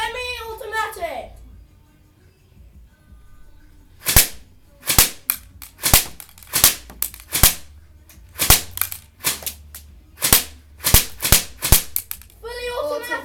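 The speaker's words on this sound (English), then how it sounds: "This is the accuracy test for the M4 Carbine. On semi. Semi-automatic." An M4 Carbine airsoft gun fires on semi-automatic, about fifteen sharp, irregularly spaced snapping shots close by, with voices talking before and after the shooting.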